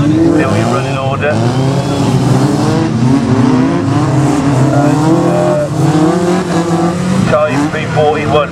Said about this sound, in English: the race leader crosses the line once again